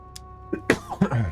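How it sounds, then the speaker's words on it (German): A person coughs several times in quick succession, close and fairly loud, preceded by a faint sharp breath, with no speech around it. "kurze Hustattacke"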